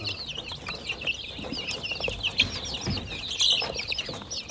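Chicks and hens cluck and peep close by in a small flock, with busy overlapping chirps and a few louder clucks rising over soft rustling.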